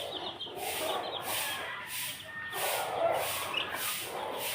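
White Kelso gamefowl and their chicks, with faint clucks and chirps over a steady outdoor background hiss and no talk.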